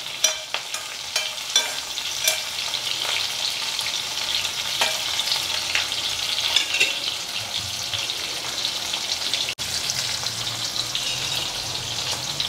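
Small homegrown bitter gourds fry with curry leaves in oil, giving a steady close sizzle with scattered crackles and pops and no talking.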